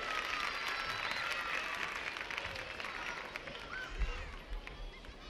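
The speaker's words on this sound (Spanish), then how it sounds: "el aplauso para la Chilindrina" Studio audience applause on a 1977 Chilean television variety show, a dense sustained clapping wash lasting the whole stretch and fading slightly near the end.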